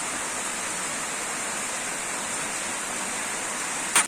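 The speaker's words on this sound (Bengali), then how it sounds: "বৃষ্টি দেখেছিল তার 4 ডবল জোরে বৃষ্টিটা নেমেছে" Heavy rain pouring down during a downpour near a pond, a dense, steady hiss of rainfall that stays even and loud throughout, ending with a brief louder bump.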